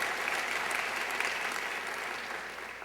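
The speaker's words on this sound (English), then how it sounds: "We can give Yvonne a round of applause." Audience applause for community leader Yvonne Marrero during a New Orleans mayor's State of the City address, a dense, steady round of clapping from a large crowd that slowly tapers off.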